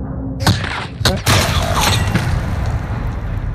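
Several sharp, booming air strike impacts in Call of Duty: Warzone land in quick succession, followed by a dense rumbling wash of debris and noise that keeps roaring loudly.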